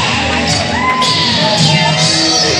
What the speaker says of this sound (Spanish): que se escuche su aplauso para la reina de la noche, Cristela.